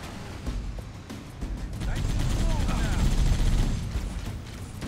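Enemy gunfire in a Halo video game: bursts of rapid automatic shots and heavier blasts over a rumbling vehicle engine, loud and continuous, with someone talking over parts of it.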